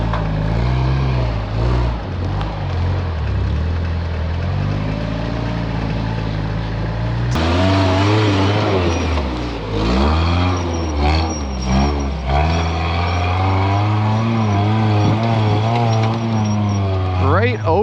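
A rock crawler on Toyota axles and 37-inch tires climbs over a tree stump, its engine rumbling loudly and close, revving up and down in surges on a dry trail, with voices at times.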